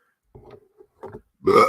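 A person lets out a few small throaty burps, the last one loudest and longest, close to the microphone with short silences between.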